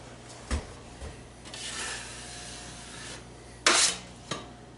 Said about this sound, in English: I'm better off just dry sanding it.